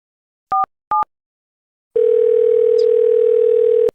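A telephone call starts with two short dial-key beeps, then a long steady dial tone, loud and close, as someone rings a doctor.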